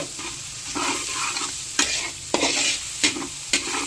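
Onions sauté in a pan for chicken arroz caldo with a steady close sizzle, broken by a few sharp scrapes and clacks of a utensil stirring.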